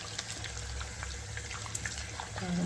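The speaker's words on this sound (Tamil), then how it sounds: "அது நல்லா பொறிஞ்சு வரும் கருவேப்பிலை பொரியுதான்னு பார்க்கணும்" Curry leaves frying in homemade ghee give off a soft, continuous sizzle with scattered small pops. The sizzle is faint and close, and it swells louder at the very end.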